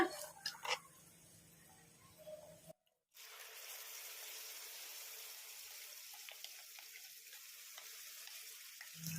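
Ground onion chutney hitting hot tempering in a pan, a brief burst of sizzling that cuts off and then settles into a steady, soft frying hiss.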